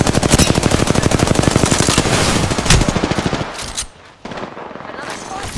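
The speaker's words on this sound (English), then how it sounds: "Shots fired." Rapid automatic gunfire from the battle royale shooter Apex Legends rattles loudly in dense bursts, trailing off into sparser shots and scattered game sounds near the end.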